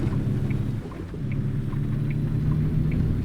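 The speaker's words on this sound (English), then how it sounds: "Hopefully it stops raining soon." Steady rain in American Truck Simulator, a dense continuous wash with a low engine-like rumble underneath and faint periodic chimes, unbroken throughout.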